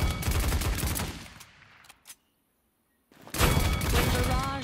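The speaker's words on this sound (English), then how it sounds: "aim in the direction of an enemy, and fire to trigger a blast" Gunfire blasts from the video game Paladins, dense bursts of rapid shots at the start, a brief sharp crack after a near-silent gap, then another heavy volley of shots to the end.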